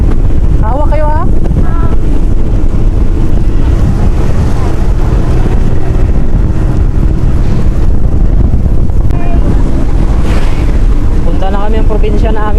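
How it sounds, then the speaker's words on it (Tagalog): Strong wind and rain roaring against the microphone outdoors, a loud, continuous buffeting rush, with a voice and other faint sounds heard briefly under the noise. "Malakas na yung hangin at saka ulan."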